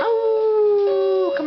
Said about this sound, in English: Are you done howling now?